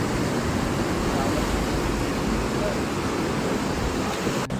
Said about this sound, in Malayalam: തിരമാലകൾ അതിശക്തമായിട്ട് വന്നുകൊണ്ടിരിക്കുകയാണ്.